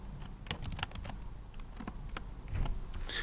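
Someone types a line of code on a computer keyboard, with irregular bursts of close, crisp key clicks and short pauses between keystrokes.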